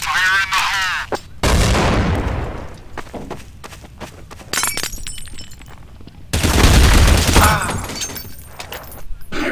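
Gunfire in Counter-Strike Source comes as several loud bursts of shots with clattering game effects between them, and a voice is faintly heard briefly at the start.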